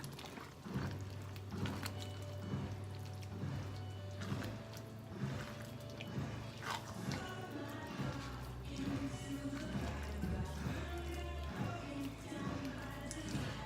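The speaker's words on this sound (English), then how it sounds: "And now I'm going to stir it all up." A spoon stirring vegan chili with thyme in a pot, giving soft repeated scraping and knocking taps in an uneven rhythm, close and fairly quiet, with a low background hum.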